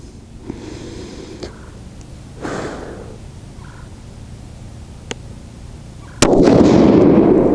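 Rifle shots from a TC Compass firing Hornady 168g Z-Max loads: a few faint, distant-sounding cracks over outdoor hiss, then one loud, sharp report with a long rumbling tail at the end; no talking.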